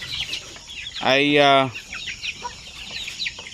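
A chicken lets out one loud, drawn-out cluck near the middle, set against quieter background noise and brief speech.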